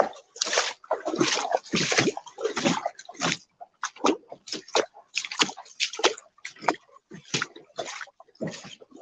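Something is hauled through shallow, warm water, making repeated splashing and sloshing bursts in an irregular rhythm, close and fairly loud, with brief pauses between surges.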